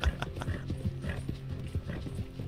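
Horse hooves clip-clop in a quick, uneven rhythm in Red Dead Redemption 2, moderately close, with soft creaks and tack rattles among the steps and no voices.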